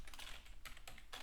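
Quick bursts of keystrokes on a computer keyboard, close and fairly quiet, with short irregular pauses between runs of typing.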